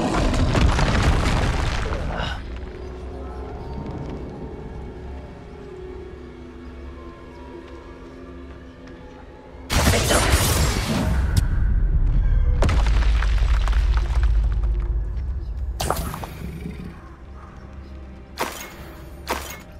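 Confringo explosion spell blasts in the video game Hogwarts Legacy, several heavy booming bursts with deep rumbling tails, loud and close, separated by quieter musical stretches and ending in a few short sharp hits.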